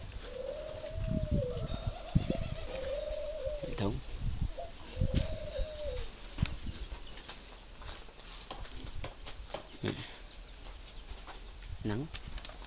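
Young spotted doves coo in repeated rounded calls near the start, fairly close but soft, then go quiet while thuds, rustles and a faint voice continue in the background.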